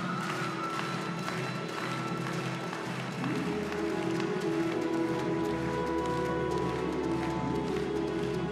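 Crowd at a women's doubles badminton bronze medal match applauding steadily and appreciatively, a dense continuous patter of clapping in a large hall with tonal arena sounds running underneath.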